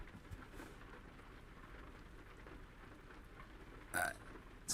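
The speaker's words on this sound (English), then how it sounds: "oh boy, it's raining" Rain in American Truck Simulator, a steady soft hiss of falling rain heard from inside a truck cab, with a brief louder knock near the end and no voices.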